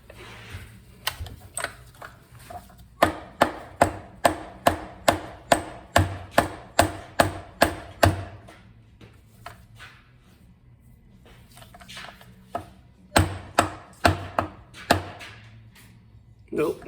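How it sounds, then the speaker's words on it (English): A mallet taps the crankshaft end of a 1980 Yamaha YZ125 engine to split the crankcase halves: a quick run of about a dozen sharp, evenly spaced metallic knocks, a pause, then another shorter burst of close, crisp taps. "One trick is tap on the crankshaft on this end with a mallet."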